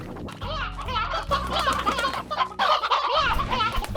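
An elder hen in the Slime Rancher video game clucks in a busy run of chicken calls, loud and close, over a low game soundtrack.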